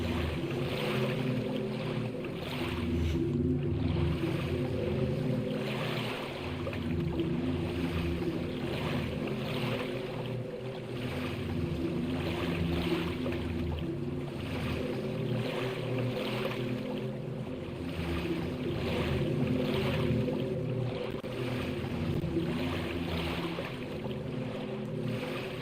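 Rowing a boat across water in the video game Silent Hill 2, a steady wash of lapping water and low rumbling ambience with a slow repeating stroke rhythm, continuous and moderately loud without any talking.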